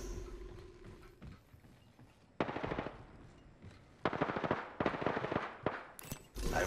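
Bursts of automatic gunfire in the battle royale game Apex Legends, rapid repeated shots in several loud volleys separated by quieter gaps, with a closing burst at the end.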